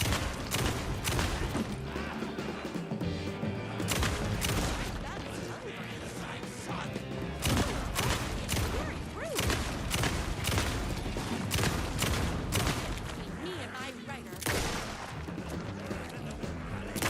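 Fully automatic shotgun blasting in the video game Alan Wake 2, with loud rapid bursts of booming shots in quick succession, repeated over many seconds amid crashing impacts and a voice speaking in between.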